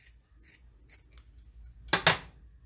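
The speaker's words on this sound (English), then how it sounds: "right here in the middle is where you're going to cut it with a pair of scissors" Scissors snip through folded paper strips for Dollar Tree farmhouse Easter decor, two quick close cuts near the end after a few faint rustles, with no talking.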